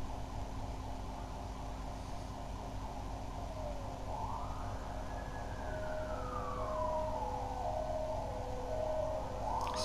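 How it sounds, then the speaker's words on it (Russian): A wailing ambulance and police siren in the video game Silent Hill 4 rises and sweeps slowly in pitch over a steady low hum, fairly faint and distant, heard at night, with no voices. "Сирены скорой"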